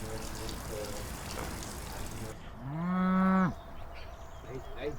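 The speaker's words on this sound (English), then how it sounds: "The dairy cows are out on the pasture, together with their calves for the first time." Dairy cows out on pasture with their calves: a single loud, drawn-out moo rises clearly above a rough, noisy outdoor background, then fades back into ambient sound.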